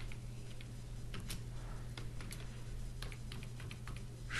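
Computer keyboard typing while a Fortran program is being written, a quick, irregular run of close, crisp key clicks over a steady low hum, with no talking.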